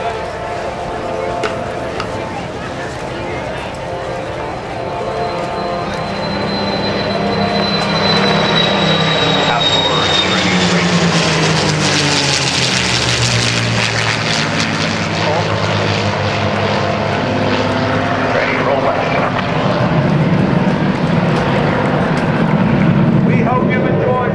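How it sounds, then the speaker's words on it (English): A USAF Heritage Flight formation roars overhead at a 2010 NAS Oceana airshow, its loud propeller and jet engine drone swelling as it passes and then fading, with an announcer's voice over a public address system. "look high overhead for the third and final pass of your United States Air Force Heritage Flight"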